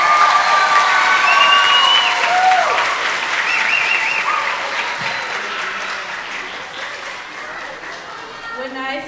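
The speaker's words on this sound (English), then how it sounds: "Let's give her a big round of applause." A crowd at an elementary school grand opening applauds and cheers a fifth-grade teacher, loud sustained clapping with whoops and shouts that gradually tapers off.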